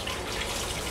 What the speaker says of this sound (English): we're going to take the water off the potatoes